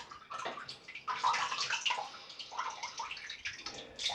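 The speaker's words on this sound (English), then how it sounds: "I'm just washing this lather off my wrist, same as I would on my face" Running water rinses shaving lather off a wrist at a sink, a continuous splashing, trickling wash with bursts of louder spatter, close and steady for a few seconds with no talk.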